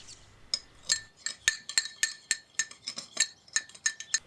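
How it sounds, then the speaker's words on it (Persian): A spoon clinks against a small bowl in a quick, uneven rhythm of bright taps as a salad dressing with black pepper and crumbled dried oregano is stirred. "بعدم نصف قاشق چایخوری پونه کوهی خشک شده رو روش خورد میکنیم و هم میزنیم."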